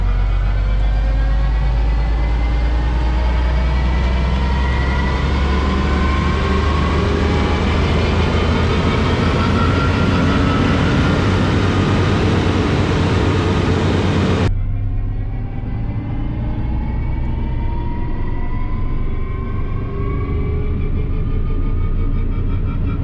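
A Claas Xerion tractor drives a mulcher rotor at high speed, a loud continuous roar and whine during land clearing that holds steady and drops abruptly in its upper range partway through, with no talk.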